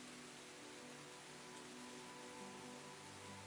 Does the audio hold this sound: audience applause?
no